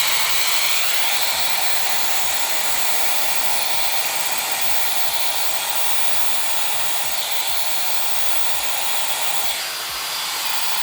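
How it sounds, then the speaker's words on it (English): Hair dryer running steadily on its lowest warm setting, used to lift mascara-coated lashes, a close, continuous airy whoosh with a slight change near the end and no talking. "I turn on my blow dryer on just the lowest warm setting"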